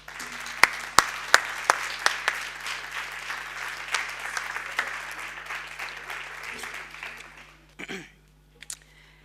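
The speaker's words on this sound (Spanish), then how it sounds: "Un aplauso." At a cultural history tribute gathering in Marmolejo, an audience applauds as a grandson comes up to speak: a few sharp, close individual claps lead into steady crowd clapping that thins and fades out near the end, followed by a brief shuffle.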